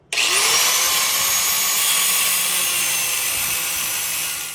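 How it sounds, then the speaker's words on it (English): Angle grinder cutting through a rusted tie rod on a VW Mk1, a loud, continuous high-pitched whine with harsh grinding hiss, held steady for several seconds close up, with no talk. "I'm just gonna get a grinder and I'm literally cutting this tie rod off"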